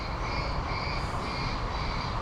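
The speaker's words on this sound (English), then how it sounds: "It sounds like there's a couple of birds in there" Harsh, continuous squealing and cawing of a couple of birds trapped inside a structure, steady and fairly loud, with no talking over it.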